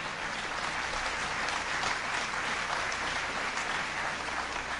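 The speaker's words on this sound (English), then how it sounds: "You are applauding yourself." Steady audience applause during a diplomatic address by U.S. President George W. Bush in Russia, a dense even wash of clapping lasting throughout with no voices over it.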